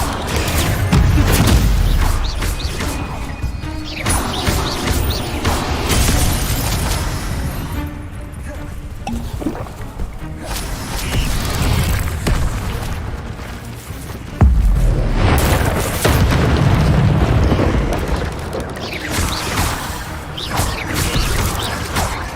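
Incendio fire spell in Hogwarts Legacy, cast repeatedly in combat: booming bursts and whooshing blasts over a dense rumbling game mix, with speech in the background.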